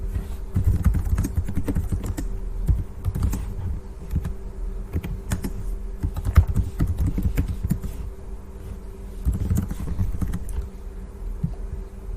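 Commands being typed on a computer keyboard, rapid irregular clicks and clacks in short bursts with brief pauses, close and fairly quiet over a faint steady hum.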